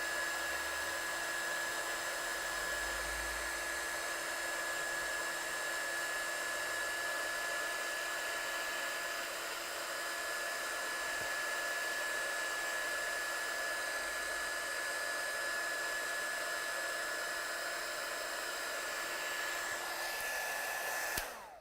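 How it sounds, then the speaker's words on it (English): Heat gun blowing steadily for heat embossing on a stamped craft design, a continuous close whooshing hiss with a faint high whine, holding level for about twenty seconds before cutting off. "So my gun is hot. And as soon as my gun's hot, can we see the heat embossing's getting"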